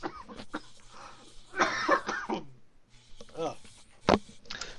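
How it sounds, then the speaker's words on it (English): A man coughs during a tabletop role-playing game session, a few sharp coughs mixed with throat clearing, close to the microphone and interrupting bits of nearby talk. "Sorry, I didn't want to cough in the mic."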